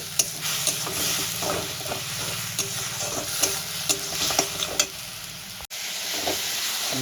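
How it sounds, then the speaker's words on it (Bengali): Onion paste sautés in a pan with a steady close sizzle and hiss, punctuated by repeated spoon scrapes and stirring clatter, then a brief cut before the frying resumes. "পেঁয়াজের পেস্টটা দিয়ে আমি ভালো করে কষাবো এই কাঁচা গন্ধটা চলে যাওয়া পর্যন্ত"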